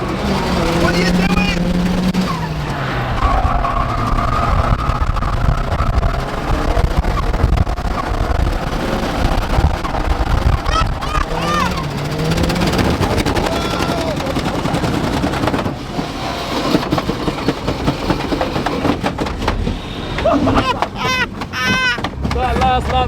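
A Mercedes drifts on a track with its tyres losing grip, its engine roaring and bouncing off the limiter amid squealing tyres, loud and continuous, with voices talking and shouting over it.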